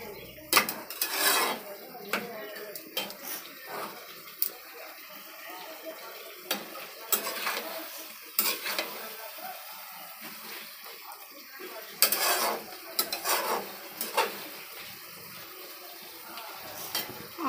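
Spoon stirring and scraping through jackfruit and potato curry as it sautés in a pan with a little water and spices, irregular clinks and scrapes over soft sizzling, with no talking.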